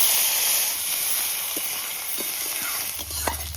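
Grated onion hits hot oil with cumin seeds in a pan, giving a steady close hiss of sizzling with a few small pops and crackles.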